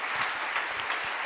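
Congregation clapping in applause to acclaim the Lord during a French-language church sermon, a steady dense patter of many hands, fairly close and continuous for a brief moment.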